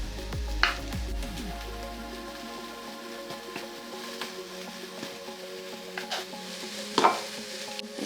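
Tomato paste being stirred into a hot vegan jackfruit filling in a pan, a soft low sizzle with occasional faint scrapes and clinks of the utensil against the pan.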